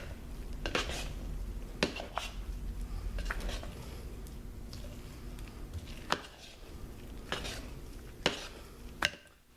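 A spoon scraping and clanking against a pot while stirring hot process soap batter of sea salt and kelp, several sharp metallic knocks over a steady background hum.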